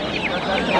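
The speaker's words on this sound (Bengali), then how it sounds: "এই যে দেখেন এখানে মোরগ মুরগি" Roosters and hens at a busy poultry market give a brief, close cluck that is over in under a second, with a faint hum of background noise beneath it.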